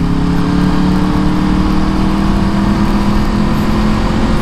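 A sportbike motorcycle engine drones loud and close with a steady low rumble and hum, holding an even pitch throughout with no distinct gear change standing out.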